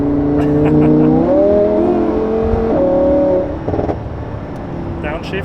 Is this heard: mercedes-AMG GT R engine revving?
yes